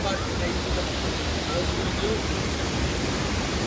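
Steady, broad rushing of flowing water fills the scene continuously, a dense hiss from Jhari Pani Falls near Mussoorie, India, like a nearby waterfall or fast stream.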